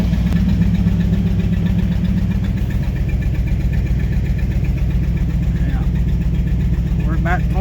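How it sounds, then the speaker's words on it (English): An old motor idles steadily after about ten minutes of running, a continuous low rumble with a faint knocking texture that carries on evenly throughout, while people talk over it. "it's been idling probably at least 10 minutes"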